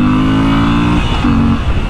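Moto Guzzi V7 Stone motorcycle engine in a video game, revving loud and steady, briefly dropping off before rising again, with no talking over it.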